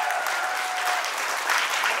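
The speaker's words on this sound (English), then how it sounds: "Một tràng pháo tay thật lớn nữa được không ạ?" Applause for the bride and groom at a wedding reception, a dense, steady patter of many hands clapping at once for about two seconds.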